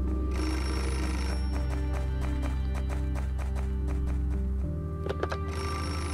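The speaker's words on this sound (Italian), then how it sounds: "Il telefono, ragazzi." A telephone rings insistently in the video game Beholder, a repeating bell that fills most of the clip over a low droning music bed, then stops abruptly before a few final clicks.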